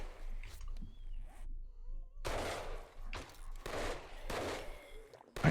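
Video game gunfire from 7 Days to Die on horde night, sounding as bursts of rapid shots and a shotgun blast, loud and close, with brief quiet gaps between volleys.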